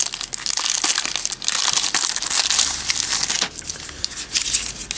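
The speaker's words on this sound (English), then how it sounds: "What you have to do is cut this open or just tear it." A plastic zip-lock bag from a Japanese colorectal cancer screening kit is torn open by hand, giving continuous close crinkling and crumpling with sharper tearing bursts over about five seconds.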